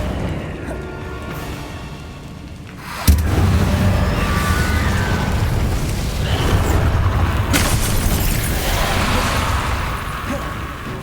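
Fire and explosion spells (Confringo, Incendio) cast in Hogwarts Legacy: a sharp boom bursts in after a quieter stretch, followed by a sustained roaring crackle of flames with another hit later on.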